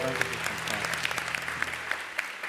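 A studio audience claps in sustained, dense applause, a steady crackle of many hands throughout the short stretch with a faint voice or tone underneath.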